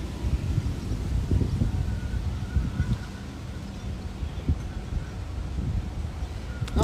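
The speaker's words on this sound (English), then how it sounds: "Windy, warm weather" Warm windy weather outdoors at a marina in Pointe-Claire, Quebec, gusty low rumbling wind buffeting the microphone continuously with faint rustling.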